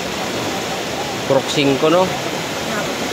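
Strong floodwater rushes steadily during typhoon rain in Barangay La Medalla, a constant broadband roar of water that fills the whole clip while someone speaks briefly over it.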